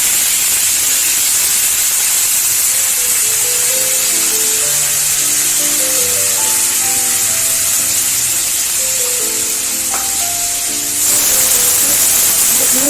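Spice paste frying in a pan gives a steady, loud hiss and sizzle that runs unbroken from start to end, with faint tonal background sounds underneath and no talking.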